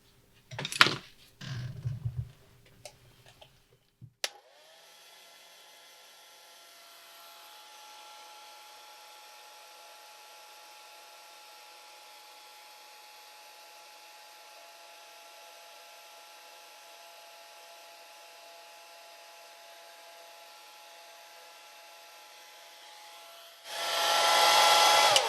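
A hair dryer blows steadily on a drying watercolor painting for about twenty seconds, a continuous even whir, after a few brief knocks and handling sounds at the start and before a louder rustle at the end.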